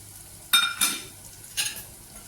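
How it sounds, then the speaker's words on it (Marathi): Spices, including goda masala and turmeric powder, are stirred and sautéed in oil with a spoon. Three short, bright scraping strokes sound close and clear over a quiet low sizzle, and nobody speaks. "मिक्स करून घेते तेलामध्ये व्यवस्थित असं परतून घेते"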